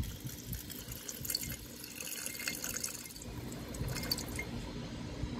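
Hydrochloric acid pours over gold foils in a container, a faint continuous trickle with small drips and splashes, quiet and alone.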